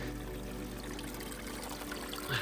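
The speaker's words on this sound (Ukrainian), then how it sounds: "Зараз покажу вам джерело." Spring water trickling and pouring steadily at a mountain spring on a meadow of the Gorgany ridge, a close, continuous flow with no talk.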